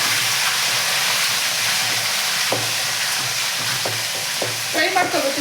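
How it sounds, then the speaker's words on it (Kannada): Green chillies and curry leaves fry in a pan with a constant close sizzle, broken by several sharp scrapes and taps as they are stirred. "ಫ್ರೈ ಮಾಡ್ಕೋಬೇಕು ಚೆನ್ನಾಗಿ"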